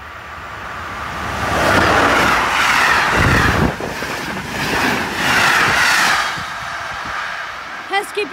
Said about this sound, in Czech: Pánové, další vlak! Ježiš, ten se sem řítí.